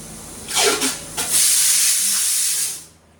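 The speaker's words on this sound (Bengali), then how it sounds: "আরেকটা সিটি দিলে বন্ধ করবো" A kitchen pressure cooker whistle vents steam in a loud, close hissing burst that swells twice and then holds steady for more than a second before fading out, with no voices.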